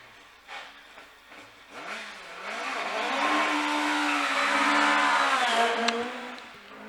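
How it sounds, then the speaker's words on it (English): A Pilbeam MP87 hill climb race car, a carbon fibre tub with a Vauxhall engine of about 280 horsepower, accelerates at Shelsley Walsh. Its engine note climbs through several gears and builds steadily louder as it passes at mid distance. "It's the development of the MP82 with a carbon fibre tub, Vauxhall power, which is a nice engine, producing, 280 or so horsepower."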